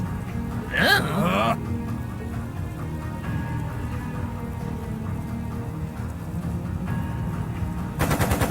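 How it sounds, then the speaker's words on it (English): Rapid machine gun fire from the video game Trails of Cold Steel II, heard as dense crackling bursts mixed with game audio, while people talk over it throughout. "It sounded like a machine gun."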